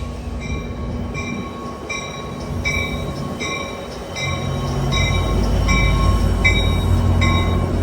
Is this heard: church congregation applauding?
no